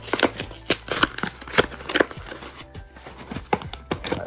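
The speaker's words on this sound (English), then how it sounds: "Let me see if I can get this cracked open real quick. I'm gonna have to rip this." Blu-ray disc packaging being torn and ripped open by hand, a run of sharp crackling plastic and paper tears coming in quick irregular bursts, close up, with no talking.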